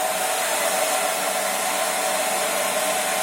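A Philips BHD282/00 hair dryer running on its first speed setting with ionization on, a steady, loud, close whooshing drone without variation and without talking.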